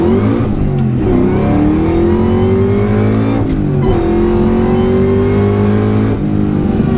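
Whipple-supercharged 2003 SVT Cobra making over 800 horsepower, heard as a loud close engine roar with a rising supercharger whine through repeated hard pulls and brief gear-change dips, with no talking.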